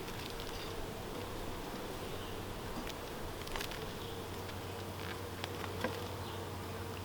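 Honey bees buzz steadily around an open hive during a beekeeper's inspection of a new colony, a dense continuous hum close by with a few louder passes, no talking.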